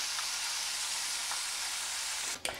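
Minced beef added to a pan of oil and fried onions, giving a steady, moderate sizzle with a brief stirring clatter near the end.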